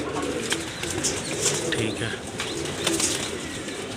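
Teddy pigeons, a group of fourteen kept for sale, coo softly and steadily with a few faint wing flutters, close by, while someone talks briefly.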